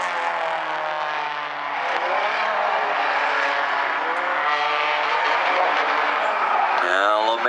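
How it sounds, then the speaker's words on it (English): Bumblebee-class race cars run an eight-lap heat race at South Sound Speedway, their engines roaring in a continuous, loud, shifting drone as the pack circles past. A commentator's voice runs over the engine noise. "Charles Lemaire moves up into the 2nd spot as they come across the start-finish line."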